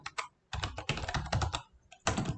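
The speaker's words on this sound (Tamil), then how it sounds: "நான் இப்போ இன்ஸ்ட்ரக்ஷன்ஸ் டைப் பண்ணிக்கிறேன்" Fingers type on a computer keyboard in Microsoft Word, close and crisp, with rapid bursts of keystrokes broken by short pauses.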